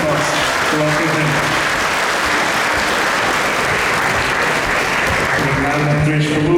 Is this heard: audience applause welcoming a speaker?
yes